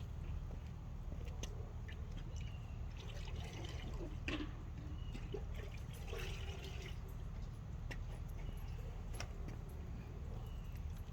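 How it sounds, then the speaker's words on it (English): Water splashes and trickles as a car wash mitt is rinsed outdoors during a ceramic SiO2 wash, a steady wet patter with faint clinks and scattered drips throughout, no voices. "I'm going to go rinse it"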